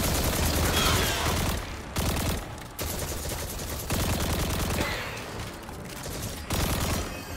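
Rapid gunfire from a weapon in the video game Destiny, loud, dense bursts of shots with a few short pauses between volleys, no talking over it.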